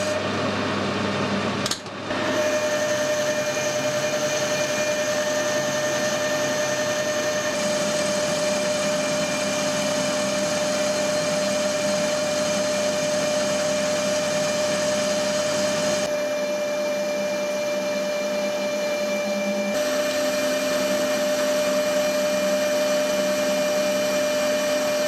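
Lathe machining a steam engine cylinder cover down to size, a steady loud whine with a constant tone running throughout, brief knock near the start and shifts in texture as the cut changes.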